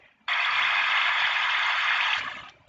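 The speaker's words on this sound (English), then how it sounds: "So this is water flowing." Default water-flowing sound effect from Second Life, a steady, even hiss-like rush of water that starts abruptly, holds for about two seconds and fades out, with no talk over it.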